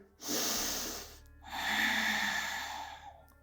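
Two long, close breaths during a yoga session: a deep airy inhale followed by a fuller, slightly louder exhale, with no speech.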